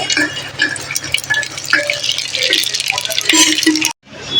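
Whole spices frying in hot oil in a clay pot for chicken handi, a loud, dense crackling sizzle with sharp pops that cuts off abruptly near the end.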